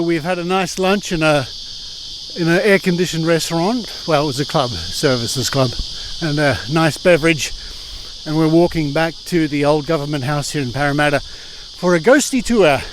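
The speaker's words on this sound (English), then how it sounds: "And you can hear the cicadas in the background." A loud, constant high buzzing of cicadas fills the background while someone talks continuously in the foreground.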